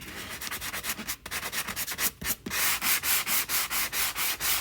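Sandpaper is rubbed by hand over painted pine wood in quick, even back-and-forth strokes. The rasping is close and rhythmic and grows faster and more regular toward the end, with no talking.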